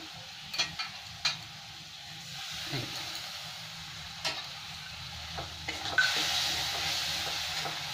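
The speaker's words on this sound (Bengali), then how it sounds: "মশলাটাকে ভালো করে একটু ভেজে নেব।" Spice paste fries in oil for a vegetarian matar paneer, a soft steady sizzle with occasional spoon scrapes and clicks, growing a little louder and brighter toward the end.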